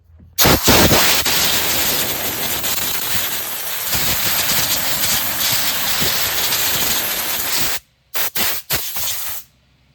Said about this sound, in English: now I'm gonna just hit it real quick with compressed air